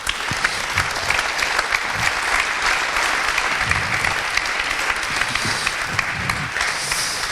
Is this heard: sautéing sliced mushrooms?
no